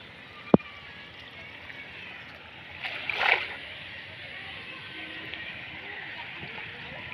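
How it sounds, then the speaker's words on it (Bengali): Floodwater flows down a slope in flood-hit Sherpur district under a cloudy sky. It makes a steady broad rushing wash throughout, with one sharp click near the start and a short louder splashy surge around the middle. "এই যে দেখতে পাচ্ছেন এখানেও পানি নামছে।"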